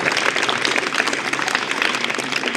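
Students applauding their teacher at a government secondary school welcome event, a dense, steady round of many hands clapping throughout, close and fairly loud.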